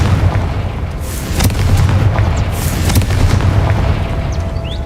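Confringo fire spell blasting in Hogwarts Legacy, a loud rumbling explosion with booming bursts and a rolling low-end roar that swells and lingers throughout, no voices.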